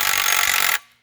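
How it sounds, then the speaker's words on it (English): Milwaukee M18 Fuel high-torque utility impact wrench hammering hard as it tightens a fastener, bending the washer; one dense, loud continuous burst of rattling impacts that stops abruptly, with no talk over it. "One great thing about this impact wrench, right now there's a ton of torque on that thing."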